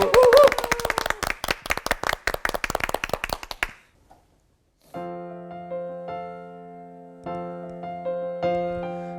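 A church congregation claps together in a quick, steady rhythm of sharp hand claps for nearly four seconds, then stops. Sustained organ or keyboard chords follow.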